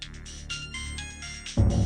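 A phone ringtone chimes in a short repeating electronic pattern in a home drama scene, then gives way abruptly to a louder low rumble near the end.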